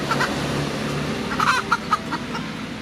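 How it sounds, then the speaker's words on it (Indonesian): Chickens cluck in short bursts of several calls over a steady background murmur, fairly close, with no one speaking. "Kenapa saya deket ayam?"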